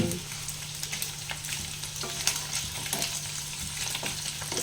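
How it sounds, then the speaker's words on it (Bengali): Paneer fries lightly in a pan with a soft, steady sizzle and occasional stirring scrapes, close by and fairly quiet, with no talking. "একদম হালকা ভাবে ভাজবো"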